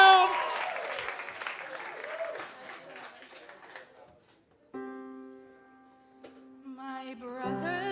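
Live studio audience applauds on cue at a showreel performance, a dense burst of clapping for about four seconds that thins and fades, followed by sustained electronic tones.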